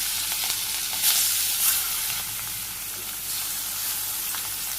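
Fish frying one by one in hot oil tempered with cumin in a Bangladeshi village kitchen, giving a steady close sizzle with a few brighter crackling bursts early on and no voices.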